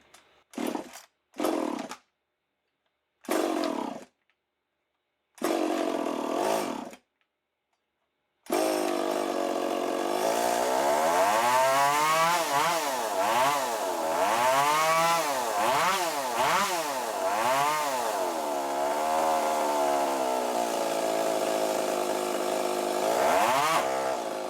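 A rebuilt race chainsaw fires in several short sputtering bursts, then catches and runs continuously. It is loud and close, and the engine revs up and down repeatedly in a rising and falling whine.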